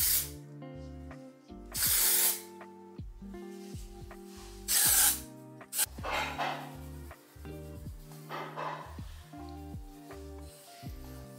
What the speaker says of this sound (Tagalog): At ngayon, kailangan na nating mag-spray.